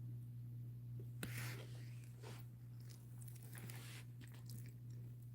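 Close, soft chewing of a peeled food taken from the fridge: moist bites and faint crunches come in irregular bursts over a steady low electrical hum.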